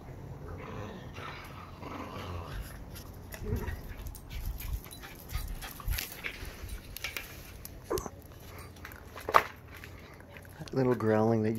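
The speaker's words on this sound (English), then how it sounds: "Little growling that you just heard came from her." Small dog growling and grumbling over a bone in a backyard, low intermittent rumbles under soft background noise, ending with a brief higher whimpering whine.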